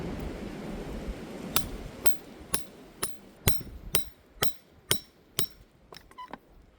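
A hammer strikes a wood chisel to drive out old wood from an axe head, giving about ten sharp metallic taps at a slow, uneven rhythm over a quiet background.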